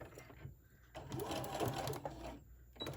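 A sewing machine stitches a fabric scrunchie with polyester thread at a 2.5 stitch length, giving a close, steady mechanical whirring run with short pauses at the start and end.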